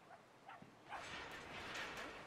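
Puppies yip and bark in the video game Brothers: A Tale of Two Sons, a few short soft yelps at first, then a denser, brighter run of excited barking, fairly quiet and with no talking over it.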